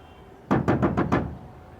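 Knocking on a door in a Hindi mystery film scene, five quick evenly spaced knocks, close and fairly loud, then quiet.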